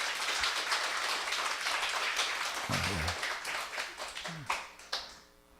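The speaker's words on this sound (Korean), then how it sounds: "박수 좀 한번 해줘요" A church congregation applauds during a Sunday service, a moderate, steady round of clapping that thins into a few scattered claps and a short voice before fading out.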